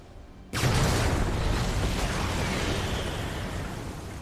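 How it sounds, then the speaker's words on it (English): Huge blast of a torpedoed wartime ship loaded with explosives, erupting suddenly after a quiet moment into a loud, sustained roaring rumble that slowly fades. "when she's torpedoed, she goes up in a huge explosion"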